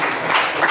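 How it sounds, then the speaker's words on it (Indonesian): Students in a classroom applaud during a lesson, giving a short burst of steady, close clapping that fills the whole moment. "tepuk tangan dulu"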